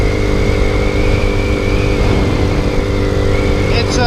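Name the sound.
Boom Vader motorcycle (Grom clone) being ridden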